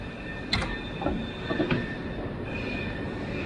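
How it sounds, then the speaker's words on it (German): A passenger train stands at a main station platform, giving off steady rail hum with a few short metallic squeals and clicks of cars and wheels. No one speaks. "Mein Zug, der steht hier schon rum und wartet auf mich."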